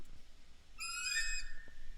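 A bird call in the survival video game Survivalist: Invisible Strain: one clear, whistled, harmonic cry lasting under a second, fairly loud over a low ambient hum, with no talking.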